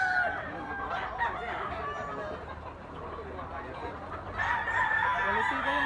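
A young gamecock bullstag, a white-legged regular-size rooster of sweater bloodline, crows loudly and close twice with drawn-out calls, over background farmyard noise and a faint voice.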